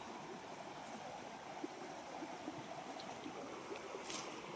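A river flows nearby, a faint steady broadband wash of water with no voices heard.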